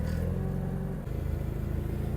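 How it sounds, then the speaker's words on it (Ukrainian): A Yanmar F5 three-cylinder tractor of nearly 15 horsepower drives out at a tractor sales yard, its engine chugging with a close, steady low throb that dips briefly midway and then resumes. "Виїжджає Янмар F5"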